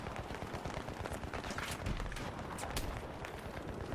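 Gunfire from the first-person shooter game Battlefield 3, a dense continuous stream of rapid shots and crackling battle noise with a heavier blast near the middle, steady and loud throughout with no talk.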